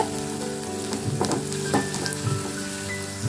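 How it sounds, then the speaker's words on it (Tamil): Chopped onions sautéing in a pan for a cauliflower gobi masala, giving a steady close frying sizzle with light stirring scrapes and no voices. "இந்த வெங்காயத்தை சேர்த்து நல்லா வதங்கிட்டு"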